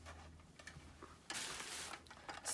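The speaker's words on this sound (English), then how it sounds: "makes a ticking noise. If you hear that in the background, that's what that sound is." A small solar-powered moving ornament gives off soft irregular ticking, faint and close, with a brief burst of broader noise midway and no talking.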